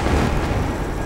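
Fireworks exploding in a blaze at fireworks stores in Bocaue, Bulacan, a dense, loud, continuous roar of crackling blasts over about a second.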